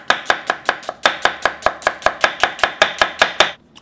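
Thin slicing of a white or yellow onion with a knife on a board, about seventeen crisp, evenly spaced chops in quick rhythm, close and loud, ending in quiet.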